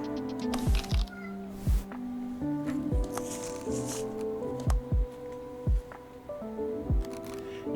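A house cat meows repeatedly at close range, with short sharp calls roughly once a second over a low background of soft music and room sounds. Nobody speaks.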